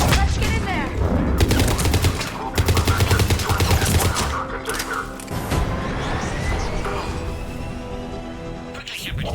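Gunfire in the video game Mass Effect 3, rapid automatic bursts and heavy shots crackling in dense volleys, with game voices speaking over the combat.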